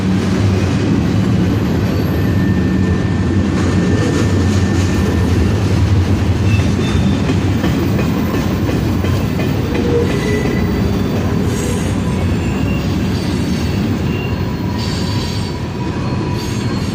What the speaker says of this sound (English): we got some logging cars too. This is actually kind of a cool train.